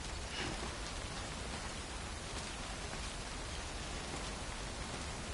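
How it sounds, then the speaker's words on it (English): Steady, dense rainfall from the video game Death Stranding hisses continuously and evenly throughout, a broad wash of drops with no distinct pauses or voices. "It's still raining"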